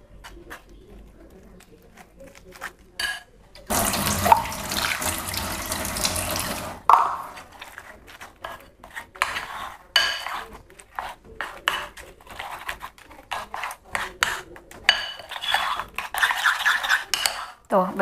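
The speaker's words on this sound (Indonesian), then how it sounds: "Kemudian sedikit air. Kita aduk-aduk teman-teman." Water is poured into tempeh mendoan batter, then a spoon scrapes and clinks against the bowl in quick, irregular strokes as the mix is stirred. The sounds are close up, and faint background noise runs underneath.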